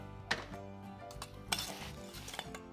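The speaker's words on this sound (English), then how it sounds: "Mix until combined and add enough breadcrumbs to soak up any liquid." Apple strudel filling stirred together with breadcrumbs in a bowl, faint scraping and a few soft clinks of a utensil against the dish over quiet background music.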